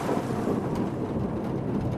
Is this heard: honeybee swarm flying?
no